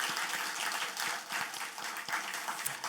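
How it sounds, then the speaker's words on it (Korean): A church congregation at a Wednesday service claps together in an encouraging round of applause, a brief, even wash of hand claps filling the room throughout. "서로 격려하는 마음으로 박수 한번 할까요?"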